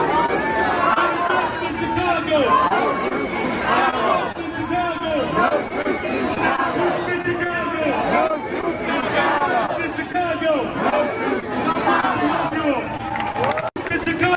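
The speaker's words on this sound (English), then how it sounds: "Brandon Johnson leading chants of no troops in Chicago." A large protest crowd in Chicago chants "no troops in Chicago" in a loud, continuous rhythmic chorus, with babble and cheering mixed in throughout.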